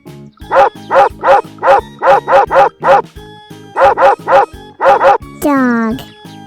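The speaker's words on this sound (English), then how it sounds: "Dog." A dog on a farm barks repeatedly in loud, close bursts of rapid woofs separated by short pauses, ending with a drawn-out whine.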